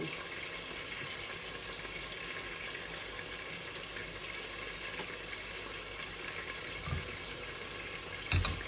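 Oil heats in a small pot for a fish bhuna, giving a steady, soft sizzling hiss throughout, with a couple of faint clinks near the end.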